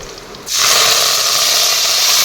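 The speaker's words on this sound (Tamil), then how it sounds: "வெந்தயமும் பூண்டும் எண்ணெயில் நல்லா வதங்கினதும் கொஞ்சமாக கருவேப்பிலை சேர்த்துக்கலாம்." A sudden loud burst of sizzling as curry leaves hit hot oil with fenugreek and garlic, a bright crackling hiss that holds steady and close after a brief quieter moment.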